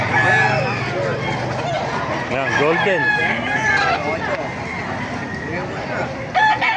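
Roosters crow repeatedly alongside clucking chickens at a chicken market in Baliuag, Bulacan, Philippines, loud and close, while people talk over the birds.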